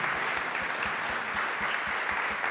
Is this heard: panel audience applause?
yes